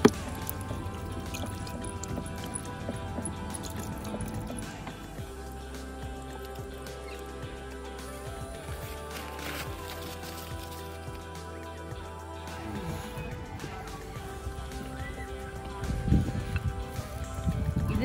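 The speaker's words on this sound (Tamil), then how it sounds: "இந்த இடத்துல வச்சு காலில் அழுத்தினோம்னா மேலே தண்ணி வரும்" Water runs from a hands-free sink worked by a foot pedal at a strawberry-picking farm, a soft, steady pour and trickle heard faintly under low background hum, with a louder burst near the end.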